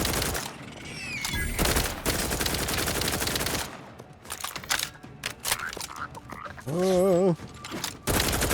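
Gunfire from a weapon in the video game The Outer Worlds 2 cracks out in dense bursts across the clip, with a brief spoken exclamation near the start and a warbling game effect late on.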